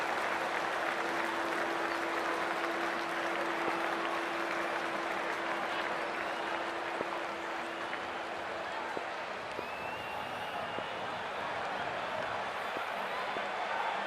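A crowd in the Cricket 24 video game roars and applauds as a dense, steady wash of noise filling a near-capacity stadium before an India vs Sri Lanka ODI match, with a sustained horn-like tone early on.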